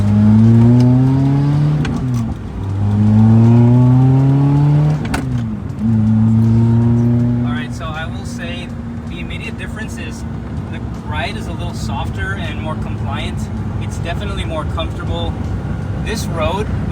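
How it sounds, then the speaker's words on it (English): A Lotus Elise on Nitron coilovers pulls away through several gears, engine notes rising and dropping with each shift, then settling into a steady cruising drone with faint rattles, heard from inside the cabin and loud throughout. "first drive with the Nitron coilovers"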